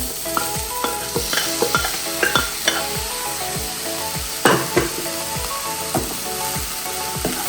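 Horse gram fries in a pan with coconut and curry leaves as a spoon stirs it, giving repeated scraping strokes over a constant close sizzle in an irregular rhythm.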